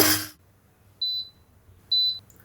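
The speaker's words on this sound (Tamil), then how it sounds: "1 நிமிஷம் முடிஞ்சு பீப் சவுண்ட் வந்துருச்சுங்க." Two short high-pitched electronic beeps from a kitchen appliance's one-minute timer sound about a second apart in a quiet room, following a brief burst of noise at the start.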